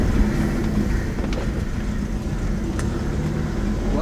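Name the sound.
modified Hyundai car driving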